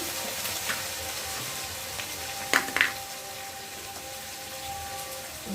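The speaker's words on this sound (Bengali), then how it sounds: "আর এই হলুদ দিলাম, দিয়ে একটু ভালো করে মশলাটা ভেজে নেব।" Spice paste with turmeric frying in oil in a pan for a tilapia fish curry, giving a steady soft sizzle with a couple of brief louder crackles or utensil clinks near the middle.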